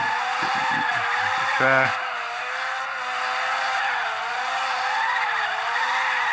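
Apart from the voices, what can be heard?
car drifting and skidding in Real Drift Car Racing video game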